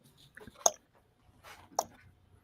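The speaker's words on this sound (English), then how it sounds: "I can hear the oddly pleasing sound of water dripping" Water drips in a video game, a few scattered soft drips and squishy clicks spaced apart over near silence, close and fairly faint.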